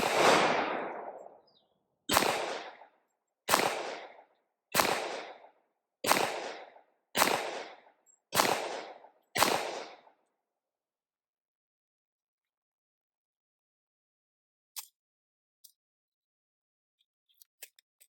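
A stainless full-size Taurus 1911 .45 ACP pistol fires eight rounds of Federal ammunition at a 10-yard range, each sharp, loud report followed by a short decay in an even rhythm, then quiet with faint distant clicks.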